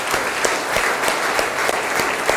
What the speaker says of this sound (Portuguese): Palmas para Jesus Cristo